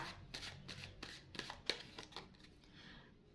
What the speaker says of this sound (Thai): ไพ่ใบแรกได้เป็นไพ่เด็กถือดาบนะคะ